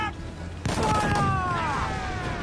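Ship cannons fire a broadside in Assassin's Creed 4 naval combat, a sudden loud blast followed by rolling booms and whistling projectiles trailing off, with no voices over them.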